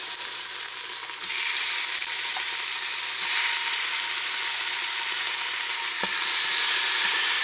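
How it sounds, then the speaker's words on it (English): Pork sizzles steadily as it browns in a hot oiled pan, a loud continuous crackling fry with a few faint clicks, no voices. "Now we're going to just brown the meat up."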